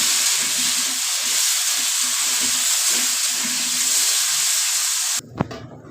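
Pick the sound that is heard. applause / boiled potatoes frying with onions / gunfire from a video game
boiled potatoes frying with onions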